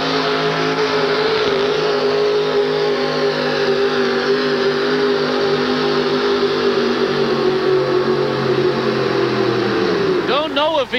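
Pulling truck with upward-facing injection at a 1988 USHRA truck pull in Hartford roars loud and steady under strain for about ten seconds, then the engine note drops away sharply as it lets off.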